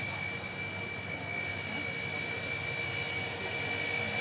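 A Tejas Mk1 fighter jet engine roars steadily overhead, a constant broad rumble that neither rises nor fades, with no talking.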